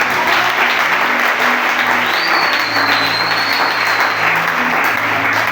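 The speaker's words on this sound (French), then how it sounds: "Est-ce que quelqu'un peut acclamer encore pour le Seigneur?" A church congregation applauds and cheers for the Lord in a dense, loud wave of clapping that fills a large worship space and sustains steadily throughout, with a few voices mixed into the crowd noise.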